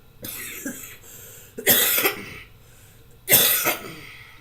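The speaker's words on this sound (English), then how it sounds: "I wasn't coughing like this at first." A person coughs in three harsh, close bursts, a short one first then two heavier fits, separated by quiet pauses.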